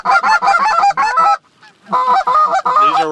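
Geese honk loudly and close during a duck and goose hunt, a rapid run of overlapping calls, a brief pause, then another burst of honking.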